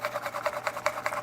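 Small Daiso kitchen grinding tool working food, a quick regular series of soft scraping pulses, about six per second, close and quiet.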